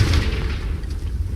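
An explosive Confringo spell going off in Hogwarts Legacy, a deep rumbling boom that rolls on loud and heavy for a moment without any talk.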